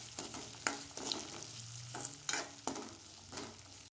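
Green peas sauté in a hot pan, giving a soft, steady sizzle broken by several distinct scraping strokes of a spatula stirring them, close and fairly quiet.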